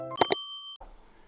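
A notification bell sound effect gives a bright double ding that rings out cleanly for a moment, then cuts off into faint room noise.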